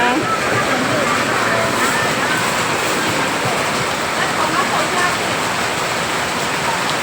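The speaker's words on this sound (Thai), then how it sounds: "ตลาดมหาชัยตอนนี้ฝนตกน้ำท่วมค่ะทุกคน" Heavy rain pours down over flooded streets at Mahachai market, a loud constant hiss and wash of water, with a voice talking over it.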